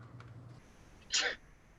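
A single short sneeze bursts out in a quiet room during a video call, loud and close, with faint background noise before it.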